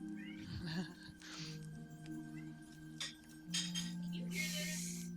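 A pet cat meows and complains in a few short, whiny calls among light clinks and faint background voices, close by and moderately loud.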